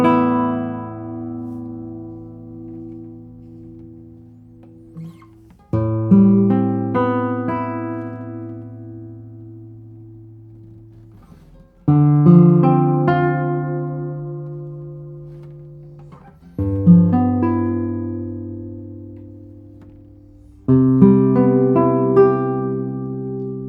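A classical guitar played slowly, with five separate strummed chords or phrases several seconds apart, each ringing out and decaying, close and clear, with no voices.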